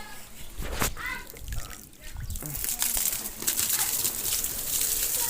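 Water splashes and trickles out where a pipe has slipped loose while watering plants in a village yard, a close, uneven gush with voices talking over it.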